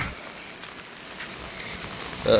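Light rain drizzles during flooding in Jaffna, a steady soft patter of drops on surfaces with no voices.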